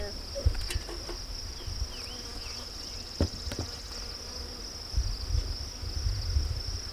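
Bees hum steadily around an opened backyard hive during a two-week check, a faint, constant buzzing with occasional nearby bees passing close and some soft handling bumps.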